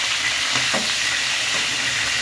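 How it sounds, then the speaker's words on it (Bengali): Quail meat frying in hot oil for a roast, a steady loud sizzle with occasional stirring scrapes throughout, no talking. "এখন এটাকে ভালোভাবে ভেজে নেব।"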